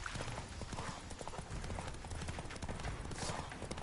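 Roach, Geralt's horse in The Witcher 3, gallops with fast, steady hoofbeats thudding close by, low in level with faint background sound.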